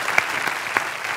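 Brief burst of audience applause, steady clapping from a crowd with no talking over it.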